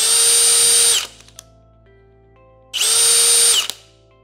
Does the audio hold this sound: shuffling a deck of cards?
no